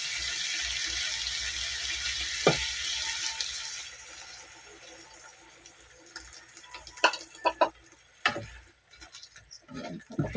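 A little water is poured into a cooking pan with ground chili while shrimp is being cooked, giving a running, splashing wash that fades and then turns into scattered clinks and taps.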